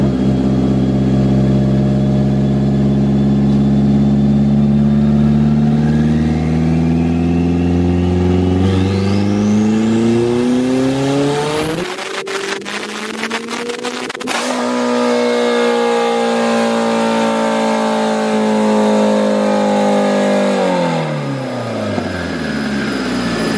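A turbocharged Hyundai Sonata on a dyno with boost turned up, its engine roaring loudly as it winds steadily up through the revs, hitting a rough stuttering limiter near the top before dropping back down.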